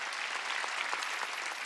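Congregation clapping during a Korean church Wednesday worship service, a continuous wash of many hands applauding together, fairly faint and even throughout with no talk over it.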